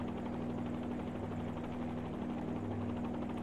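Helicopter hovering in a flight simulator video game: a steady, even rotor drone with a constant low hum, unbroken and alone for a few seconds.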